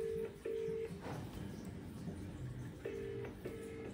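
A phone call's ringback tone repeats in paired electronic beeps while waiting for an answer, quiet and regular against low room noise.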